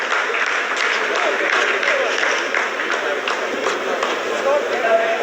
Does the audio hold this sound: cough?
no